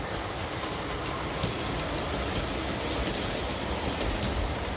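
Thomas & Friends model train with freight cars running steadily along its layout track, a continuous rolling rumble with faint rhythmic clicking at the rail joints and no pauses.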